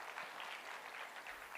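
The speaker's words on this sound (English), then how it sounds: "Please clap for Neha, everyone." Audience applause at a manual therapy training workshop, a steady burst of many hands clapping, faint and continuous without pause.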